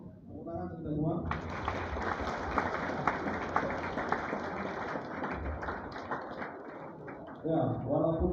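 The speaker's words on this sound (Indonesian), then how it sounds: "Tepuk tangan kita semua." Audience applause at a Ramadan school gathering: a dense burst of clapping from a crowd fills most of the stretch, with speech before it starts and again as it fades.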